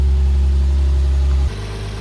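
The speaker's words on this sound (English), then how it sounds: "I'm idling a little bit too high." An Infiniti G35 engine idles slightly high, a steady loud mid-pitched hum that drops noticeably in level partway through, with no talk over it.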